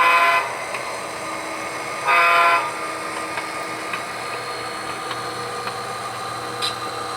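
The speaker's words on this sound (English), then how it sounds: "we've got to honk for the vagrants under the bridge here" A locomotive horn sounds during a switching operation in Westminster, California, with two loud blasts near the start and around two seconds in, over a steady rumble of the idling engine and rail equipment.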